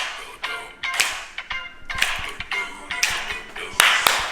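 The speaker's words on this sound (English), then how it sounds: "Double clap" Sharp double hand claps keep time to upbeat music during a care home activity session, paired claps recurring in a regular rhythm, close and crisp over the background tune.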